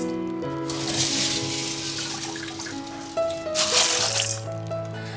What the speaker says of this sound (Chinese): 把红豆我们再给它多洗2遍